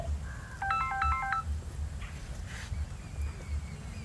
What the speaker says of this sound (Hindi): अब की कही फोन अली केकर फोन आलिए